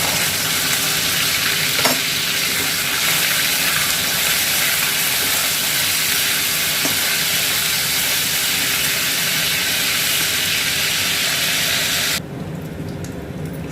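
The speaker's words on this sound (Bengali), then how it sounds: "আমি এখন চিকেনটা দিয়ে দেবো, ভেজে তুলে দেবো।" Chicken pieces frying in hot white cooking oil for Chinese fried rice, a loud, steady, dense sizzle that runs unbroken with a faint clink or two, then drops slightly quieter near the end.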